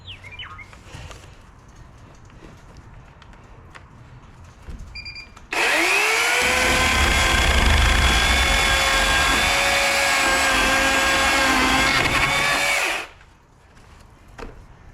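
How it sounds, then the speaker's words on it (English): A chainsaw starts up and runs loud and steady for about seven seconds while cutting rotten wood in a shop, then shuts off, with quiet room noise before and after. "gonna use the chainsaw to take off kind of the rotten"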